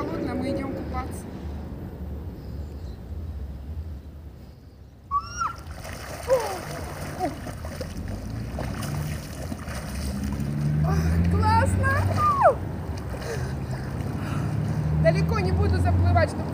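A person wades into the near-freezing channel of the Yenisei river in early spring, with close water sloshing and splashing under a steady outdoor wash, plus brief sharp chirp-like calls in the background.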